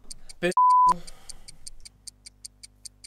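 A single long electronic beep cuts across steady ticking, with a brief voice just before it; the regular ticks continue afterward.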